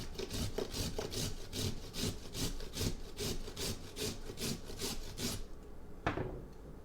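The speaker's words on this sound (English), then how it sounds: "A good old-fashioned carrot, y'all. You're just gonna grate a little bit of it." A carrot is grated on an old-fashioned grater in a kitchen, a fast regular run of close scraping strokes that stops near the end with one last scrape.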